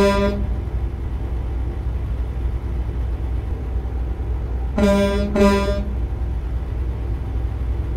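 A freight truck's air horn sounds twice in quick succession, loud and close, over the steady drone of the truck's engine on the road.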